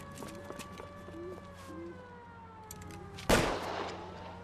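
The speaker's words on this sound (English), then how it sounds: "he's shooting" A single sharp gunshot rings out in an L.A. Noire police chase, cutting through a steady wailing siren and faint background scene noise.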